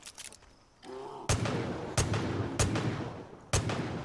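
Pistol shots in Far Cry 5, four loud, sharp cracks spaced roughly every second with reverberant tails over ambient game noise.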